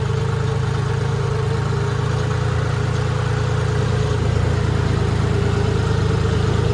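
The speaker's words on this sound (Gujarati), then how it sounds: "જો મિત્રો આપણે ટ્રેક્ટર હાલેરું હોય" A farm tractor engine runs steadily throughout, a loud, continuous low rumble with a slight rise in effort toward the end, heard alone without any talk.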